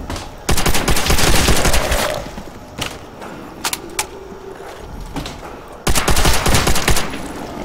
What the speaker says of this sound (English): I should just show you how much I hate the World at War ray gun